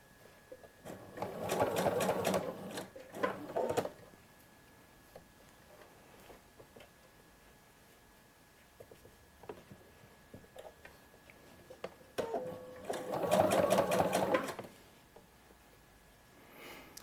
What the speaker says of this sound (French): je continue à piquer toujours dans le pli qui a été marqué au fer